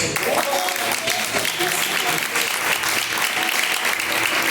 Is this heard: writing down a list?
no